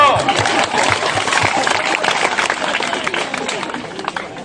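A hall audience at an induction training session breaks into a loud burst of clapping that fades gradually over a few seconds.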